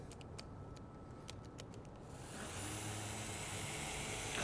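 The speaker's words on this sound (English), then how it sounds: "This all comes together really easy in a mason jar with an immersion blender." A steady, dense whir of an immersion blender motor in a mason jar, emulsifying buffalo sauce, kicks in about halfway, loud and close, after a few faint ticks and clicks.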